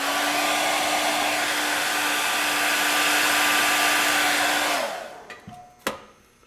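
A hair dryer blows steadily up close to dry stipple makeup on a face, a loud even whir with a constant hum that cuts off near the end, followed by a few soft handling knocks.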